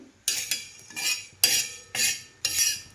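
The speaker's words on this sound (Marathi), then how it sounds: "आता हे धने आणि जिरे दोन्ही मी भाजून घेणार आहे." Coriander seeds and cumin dry-roast in a pan, stirred in about five bursts of bright rattling and scraping, each sweep rising sharply and fading, close and clear with no talk.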